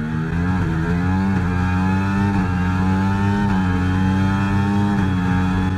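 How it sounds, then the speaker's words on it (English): A Red Bull Formula 1 car's high-revving engine in the F1 24 video game whines steadily throughout, its pitch rising and dipping slightly with gear changes, loud and continuous with no talking. "Let's have a quick listen of the engine as well"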